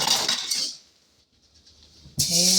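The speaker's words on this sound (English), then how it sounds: "Throw this in the sink." A mixing bowl clatters into a kitchen sink once, a loud clanging burst of dishware that stops suddenly after a quiet pause, with a second clatter at the end.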